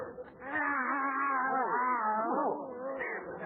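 Alley tomcats yowl in a long, wavering caterwaul for an old radio comedy sound effect, a sustained, rising and falling wail close and loud with no talk over it.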